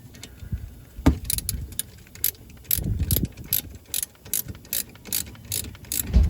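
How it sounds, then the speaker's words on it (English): A socket ratchet clicks in quick bursts while tightening the brake caliper bolts onto the caliper carrier of a Honda Fit, with a 12mm socket and 19mm wrench, close and fairly loud with short pauses and a metallic clank. "And tighten the caliper back down onto the caliper carrier."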